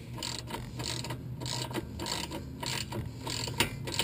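Hand ratchet advancing a bolt while pulling a wheel hub into place on a Chrysler Town and Country or Dodge Grand Caravan, a steady rhythmic run of close, quiet clicking strokes with no talking.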